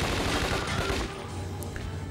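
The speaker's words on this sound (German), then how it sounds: "Den knallen wir einfach ab." Rapid automatic gunfire from the Scarface video game, a dense sustained burst of shots mowing down an enemy, loud and continuous for about two seconds with no talking.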